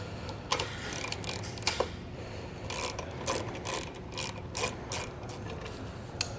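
A ratchet wrench tightens the bolts on a Lippert 5th wheel king pin air shock, giving off quick, close clicking bursts in irregular runs with short pauses between strokes.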